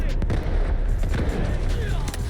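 Explosion in the video game Delta Force: dense, rumbling blasts and crackling gunfire fill the short stretch, loud and continuous, with a player's voice faintly over the din.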